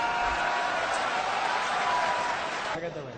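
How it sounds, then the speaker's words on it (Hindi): An audience claps together at a poetry recitation, a steady wash of applause that runs evenly before fading off near the end. "सब ताली बजा के समर्थन कीजिए।"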